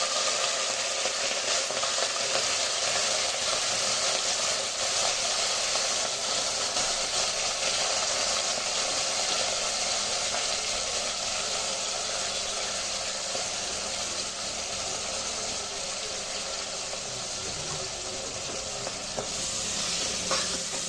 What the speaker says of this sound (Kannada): ಇದು ಎಣ್ಣೆಯಲ್ಲಿ ಫ್ರೈ ಆಗಬೇಕು